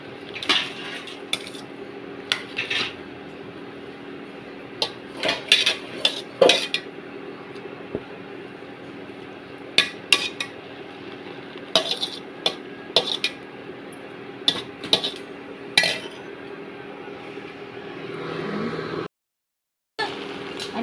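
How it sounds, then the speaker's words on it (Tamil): A metal spoon scrapes and clanks against a pot while basmati ghee rice is stirred, irregular knocks and scrapes over a steady low hum, close by, with a short silent gap near the end. "அடிமேலும் கிண்டி விட்டோம்னா சரியாக வரும்"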